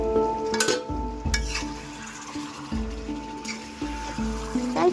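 Chicken being stirred in a pan for biryani after a splash of mitha attar, with scraping spoon strokes over a steady sizzle, close and alone.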